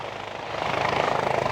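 A helicopter at Alpnach air base, its steady rotor chop pulsing rapidly and loud, close by with no talk over it.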